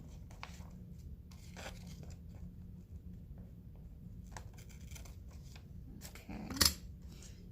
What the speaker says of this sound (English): I'm just cutting it a little bit with my scissors.